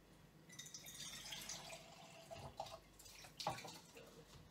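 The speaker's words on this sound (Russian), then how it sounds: "Горячую воду наливаю." Hot water is poured in a home kitchen to make coffee, giving a soft, steady trickling pour with a few splashy peaks, heard close and fairly quiet.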